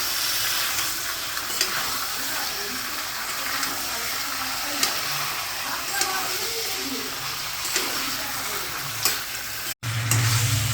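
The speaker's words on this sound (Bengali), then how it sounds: "ভালো করে মাংসটাকে এবার কষবো" Chicken pieces sautéing in a pot for a quick chicken biryani, a loud continuous close sizzle with faint scraping stirs and light clicks, ending in a short thud.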